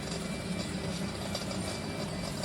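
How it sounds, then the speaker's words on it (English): An automatic floor-cleaning machine runs in a store aisle, giving a steady, fairly faint mechanical whir with a rapid clicking, ratchet-like texture throughout and no talk. "This is the machine that cleans the floors now. It's automatic."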